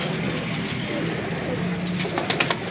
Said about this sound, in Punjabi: ਸਿਆਲ ਕੋਟੀ ਕਬੂਤਰ ਮਾਸ਼ਾਅੱਲਾ